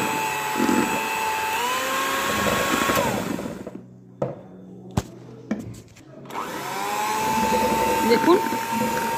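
An electric mixer grinder blends cake batter, whirring loudly and steadily, then stopping briefly with a few clicks before spinning up again for a second long run.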